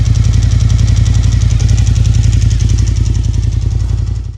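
A Japanese V-twin superbike engine idles close by with a steady, lumpy pulsing beat and a clattery mechanical edge, running evenly for a few seconds before fading slightly at the end.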